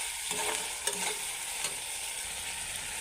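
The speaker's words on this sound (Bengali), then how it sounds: "মশলা এখানে একটু তেল সারের মানে এখানে ভাজা হয়ে গেছে" Spices frying in oil for an egg dish cooked in taro leaves, a dense steady sizzle with soft stirring scrapes throughout, close and alone with no voices.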